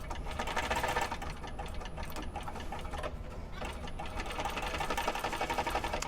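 A sewing machine stitching the side seam of a wristlet at a 3.5 stitch length, a steady fast mechanical whir and needle chatter, close and continuous with a slight dip midway.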